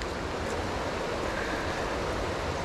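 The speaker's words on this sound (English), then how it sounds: "The creek is just starting to roll." Rain-swollen creek after about half an inch of rain, a steady broadband rush of flowing water, close and continuous throughout with no voices.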